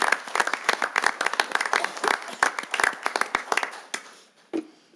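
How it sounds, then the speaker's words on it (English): Applause at a city council meeting, with a modest group clapping in a brisk burst that thins out and trails off into a few scattered claps near the end. "One more big round of applause for everyone awarded"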